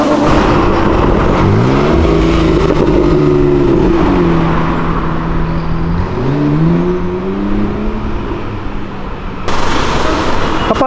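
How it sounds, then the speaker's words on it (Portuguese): Loud, close car engines rev and accelerate along Avenida Europa, with rising and falling gear pulls as vehicles drive past, including a V8 bi-turbo Batmobile, before a sharp burst of engine noise near the end. "bora ver os carros desfilando, que tem muito carro bonito nesse vídeo"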